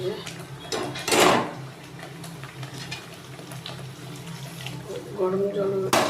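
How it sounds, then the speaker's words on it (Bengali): Hot water splashes into a washed cooking pot on a gas stove, set to boil for a prawn malai curry; a brief, close pour and clatter amid kitchen noise, with a person speaking nearby. "গরম জল দিয়ে দিলাম, দিয়ে তো ফুটুক।"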